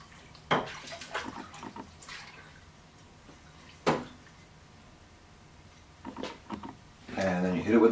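A transmission part from a Ford C6 automatic is rinsed in a Varsol parts washer, giving short splashes and dripping liquid with quiet pauses between and a longer wash at the end.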